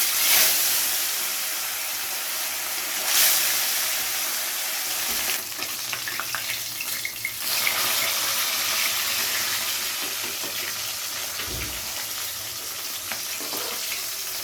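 Rohu fish pieces dropped one by one into hot oil crackle in a loud, continuous close sizzle, with surges and dips as pieces go in and a spatula shifts them around.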